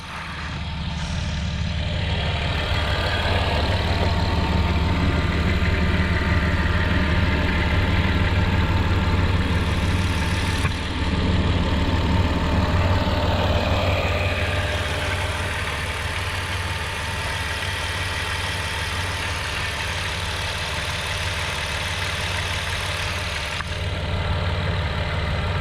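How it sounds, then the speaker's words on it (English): A 2009 Dodge Grand Caravan's 3.3-litre V6 idles steadily and close by, a continuous low rumble and hum with no talking. "Now I'll let you listen to the motor."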